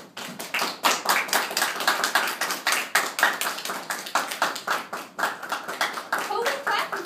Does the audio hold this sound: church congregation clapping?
yes